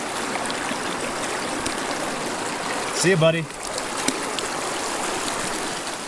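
A mountain river stream flows steadily in a trout fishing spot, a continuous broad wash of moving water throughout, with a short burst of nearby speech partway through.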